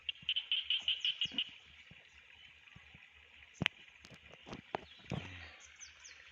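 A frog that has just jumped down gives a quick run of repeated croaks at the start, followed by scattered clicks, rustles and a few sharper knocks close by.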